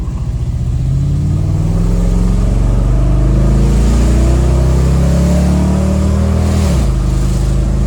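A Dodge Mega Cab engine running rough and misfiring, loud and close, its rpm wavering unevenly before stumbling and dipping sharply toward the end.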